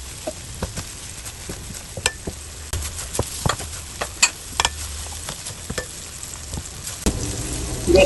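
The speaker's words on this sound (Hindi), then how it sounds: "अब हमने इसको चम्मच की मदद से हमें हिलाते जाना है" Semolina halwa stirred with a spoon in a wok full of ghee, giving a steady sizzle broken by repeated sharp scraping clicks of the spoon against the pan, close and fairly loud, with no talking.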